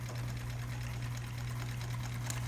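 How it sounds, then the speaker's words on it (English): A sewing machine runs steadily, top stitching a double folded hem on a backpack, its continuous close motor hum and rapid needle rhythm filling the whole stretch without pause. "now the top stitching is happening on the left side"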